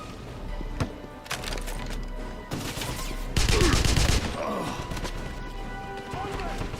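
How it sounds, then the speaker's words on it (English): Rapid gunfire bursts and blasts crash through a chaotic video game battle with grenades going off, loud and dense, swelling into a heavier barrage midway with voices shouting over it. "And everything's exploding."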